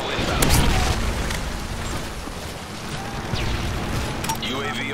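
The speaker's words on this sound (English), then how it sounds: "Friendly Predator missile inbound." A Predator missile strike in Call of Duty: Modern Warfare 3 gives a heavy rumbling boom that swells early, then settles into a sustained roar of gunfire and game noise.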